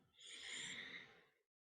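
An inhaled breath drawn with the tongue pressed to the roof of the mouth, one close, soft airy hiss that swells and fades over about a second and a half, alone.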